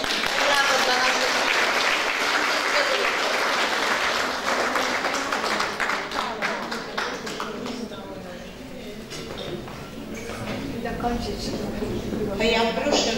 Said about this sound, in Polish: brawa dla naszego zarządu, brawa dla naszego